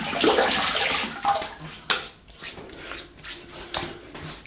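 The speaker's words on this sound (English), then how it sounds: "Right, let's wet the face." Water splashes and rubs as a face is wetted for a wet shave before lathering, close and fairly quiet, in uneven handfuls over several seconds with no talking.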